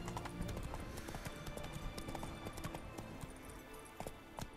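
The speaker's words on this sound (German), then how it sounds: "Reiten wir doch mal gepflegt in die falsche Richtung gerade." Horse hooves galloping in The Witcher 3 during the Blood and Wine expansion, a steady rapid clip-clop rhythm running throughout over a bed of game music and ambience.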